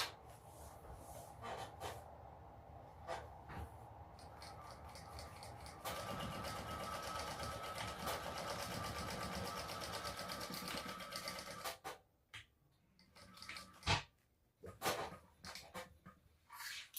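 A home sewing machine runs in bursts and then one long steady stitching run across a sling bag's seam allowance, a close whirring hum that ends in short stops and starts.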